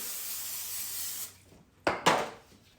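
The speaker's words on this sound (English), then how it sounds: "then you're gonna spray you a pan" Cooking spray is sprayed onto a baking pan for cornbread dressing: a sustained, close hiss lasting over a second, followed by two short, sharp taps or knocks of the pan.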